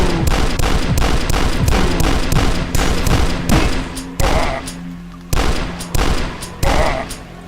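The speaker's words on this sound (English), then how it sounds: "Chunky gunshots." Chunky gunshots from the retro shooter game Dusk fire in a rapid, loud stream of heavy blasts, then thin out into a few separate booming shots with short pauses between them.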